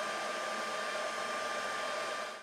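Electronics cooling fans of an idle Sovol SV08 3D printer run with a steady, even broadband whir, close and constant with no talk.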